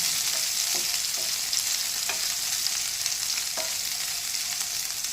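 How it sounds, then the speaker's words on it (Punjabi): Bell pepper (capsicum) frying in hot oil in a home kitchen, a steady close hiss of sizzling with a few soft clinks of stirring against the pan. "ਤੇਲ ਗਰਮ ਹੋ ਗਿਆ ਪਹਿਲਾਂ ਹੁਣ ਅਸੀਂ ਪਾ ਦਿੰਦੇ ਆ ਸ਼ਿਮਲਾ ਮਿਰਚ"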